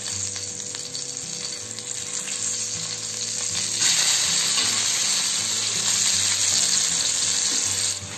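Home-made fish fry sizzles in hot oil, a dense, bright crackling hiss that swells louder midway and holds steadily to the end, close up with no voices.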